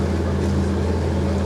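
The engine of a heavily loaded motorboat running upstream drones loud and close, giving a steady low throb with water and wind noise and no voices.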